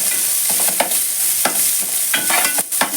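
Onions fry in hot oil with whole spices (cinnamon, cloves, cardamom, shahi jeera) for an eggplant dum biryani, a constant loud sizzle broken by scraping stirs of a spoon in the pan.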